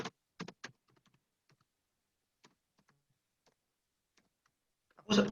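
Sparse keystrokes on a computer keyboard, a few clustered clicks and then scattered single taps, close and crisp against near silence, ending with a louder burst of key presses.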